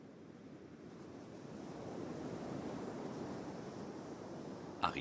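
Ocean waves break on a beach along a wild coastline, a broad, rushing roar that slowly swells and holds with some wind noise mixed in, ending in a brief louder bump.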